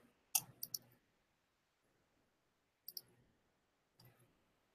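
A computer mouse clicks close and quietly: a quick burst of three clicks, then a single click, then another after a pause, with no talking.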